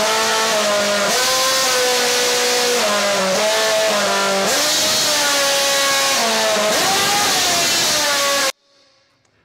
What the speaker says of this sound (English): They can play tunes, can't they, with their engines?